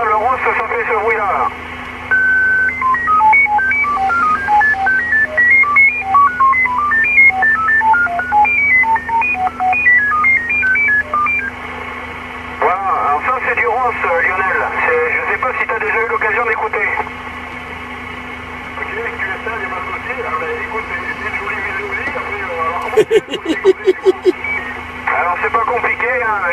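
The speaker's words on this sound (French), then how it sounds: "le ROS, ça fait ce bruit là." A ROS digital radio mode signal plays through an amateur radio receiver as a warbling stream of rapid tones over a steady hum, with a static burst near the end, and no voices.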